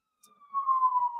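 An ambulance siren sweeps in, a single sustained wailing tone that fades up from silence and holds loud and close for about a second.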